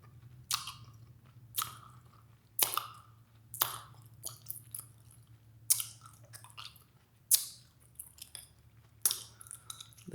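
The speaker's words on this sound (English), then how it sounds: "So get that gum moving around in your mouth." Bubblegum being chewed up close, with wet smacking, squishing mouth sounds and occasional sharper clicks in an irregular rhythm, alone and fairly quiet.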